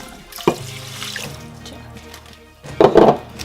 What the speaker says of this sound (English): So now I am going to add water. I'm going to add 2 cups of water inside it.